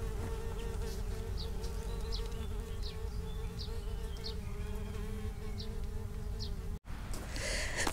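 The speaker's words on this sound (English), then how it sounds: "I think there's some sort of wasp nest in there. Not a big wasp, but they're small wasps of some sort that nest underground." Small ground-nesting wasps buzz in a Scottish Highland garden near a pond, a steady, close, humming drone with faint chirps above it and a brief break near the end.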